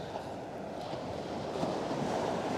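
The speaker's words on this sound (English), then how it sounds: "It's a fairly strong wind." Strong winter west wind at Coney Island rushes steadily, a dense low roar buffeting the microphone, with a hint of surf mixed in and no voices.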